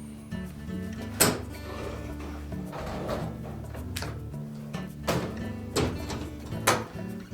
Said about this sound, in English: you may also want to open the door up and remove the lower rack as well